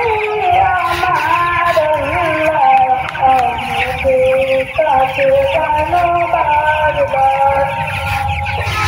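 Broiler chickens on a poultry farm in Cumilla cluck steadily as a dense close flock, with many overlapping bird calls filling the whole stretch under a spoken voice.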